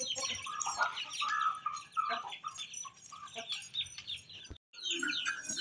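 Golden hens and their chicks clucking and chirping close by, a busy overlapping chorus of short clucks and higher peeps with a brief pause near the end.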